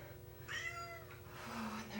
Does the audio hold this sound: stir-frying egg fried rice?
no